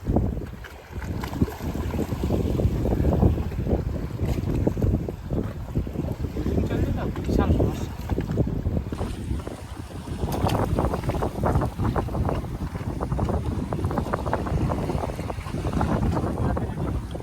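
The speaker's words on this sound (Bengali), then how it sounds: "প্রচণ্ড ঢেউ আর সাথে ঝোড়ো হাওয়া।" Boat on a rough sea under a strong gale while fishing lines are out, with steady roaring wind buffeting the microphone and heavy waves slapping and churning against the hull throughout.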